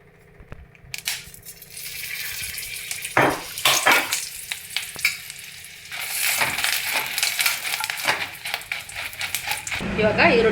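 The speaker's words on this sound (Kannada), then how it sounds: "ಇವಾಗ ಒಣಮೆಣಸಿನ್ಕಾಯಿ ಮತ್ತು ಪಲಾವ್ ಎಲೆ ಇದನ್ನು ಬಿಸಿ ಮಾಡ್ಕೊಳ್ಳೋಣ ಸ್ವಲ್ಪ ಎಣ್ಣೆನ ಹಾಕಿ ಬಾಡಿಸ್ಕೊಳ್ಳೋಣ" Dry red chillies and a bay leaf frying in a little oil, a crackling sizzle that builds with bursts of clinks and stirring, with a voice talking over parts of it.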